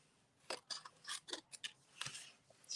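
Scissors trimming punched-out paper card pieces for a handmade thank-you card, a string of short crisp snips close up in a quiet room.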